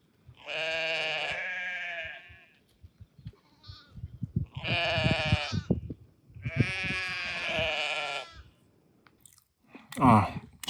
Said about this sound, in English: Look at the cute lambs.